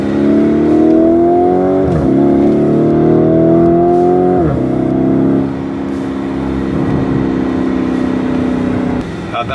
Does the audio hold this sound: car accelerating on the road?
yes